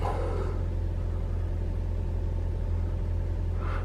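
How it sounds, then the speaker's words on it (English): A 2021 Toyota RAV4 Prime plug-in hybrid runs its engine to warm the coolant on a cold night, a steady low rumble holding constant throughout, close and continuous with no speech. "Now that I think just the engine is on just to warm up the coolant."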